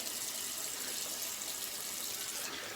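Water from a tap runs in a steady, close hiss while a shaving razor is rinsed under the stream, with no break in the flow.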